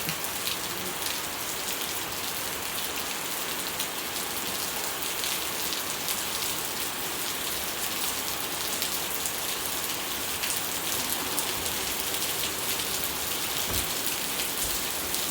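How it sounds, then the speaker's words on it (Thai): Steady rain pours down in Chanthaburi, Thailand, pattering densely on hard surfaces with a constant hiss and no pauses, close and even throughout. "ท้องฟ้าเป็นน้ำฝนเลยค่ะทุกคนวันนี้"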